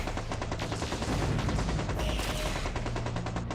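Loud, dense PPC weapon fire from mechs in the video game MechCommander 2, with rapid overlapping blasts and impacts rolling on without pause for a few seconds and no talk.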